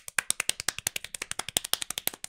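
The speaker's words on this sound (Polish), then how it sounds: "Mogę jeszcze raz klasnąć dla ciebie specjalnie." A rapid run of sharp hand claps, about ten per second, crisp and close, sustained for a couple of seconds by someone trying to clap as fast as possible, with no talking.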